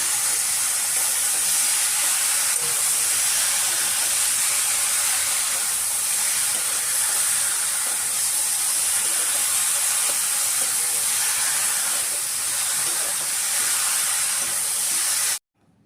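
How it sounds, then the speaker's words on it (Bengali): Okra fries in a pan over a medium-high gas flame, giving a loud, continuous sizzling hiss that stays even for about fifteen seconds before cutting off abruptly. "এরপর আমি গ্যাসের আঁচটাকে মিডিয়াম হাইতে রেখে আমি ভিন্ডিটাকে 4-5 মিনিটের মতো ভেজে নেব।"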